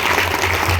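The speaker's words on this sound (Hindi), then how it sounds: "उनके लिए भी जोरदार ताली बजा सकते हैं" Audience applause at a business networking speech event, a brief dense burst of clapping from a crowd, loud and continuous.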